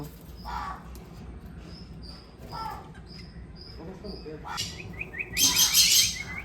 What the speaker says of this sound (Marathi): बघा पोपट पण आहेत